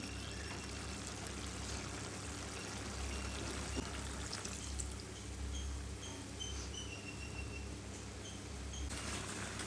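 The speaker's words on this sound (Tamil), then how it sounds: "இதுக்குள்ள நாங்கள் இப்போ கரைச்சி வச்சுருக்கிற பழப்புளியாக விட்டுக்கொள்வோம்" Tamarind water pours steadily into a pot of prawn curry, a continuous soft trickling and splashing over a constant low hum, with no voices.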